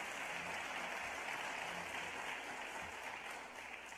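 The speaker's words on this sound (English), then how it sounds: "Let's give her a big round of applause." An audience at a teacher of the year celebration claps steadily for the whole stretch, a dense, even wash of applause heard from a little distance at low level.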